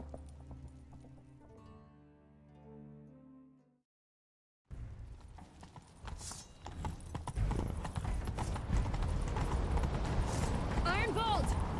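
Horses gallop with rapid, loud clip-clopping hooves in The Witcher 3 video game, under shouting voices and game sounds, after a brief quiet musical passage.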